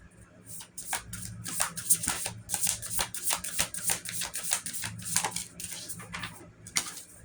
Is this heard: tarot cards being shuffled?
yes